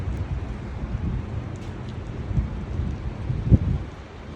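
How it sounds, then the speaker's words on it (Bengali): Heavy evening rain in Canada pours steadily with gusty wind rumbling underneath, a dense continuous wash of noise with a couple of louder thuds. "প্রচণ্ড পরিমাণে বৃষ্টির সাথে হাওয়া"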